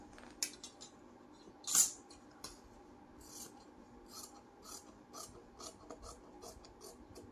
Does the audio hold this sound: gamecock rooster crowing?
no